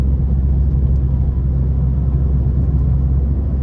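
Low, steady cabin drone from a Stage 2 BMW F30 with about 100K miles, cruising under light load; a constant deep rumble that holds at an even level throughout, with no talking.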